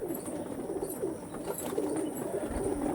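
Pigeons with deep-set, red-veined eyes coo in low, repeated rolling calls, fairly close, with steady background noise and no talk.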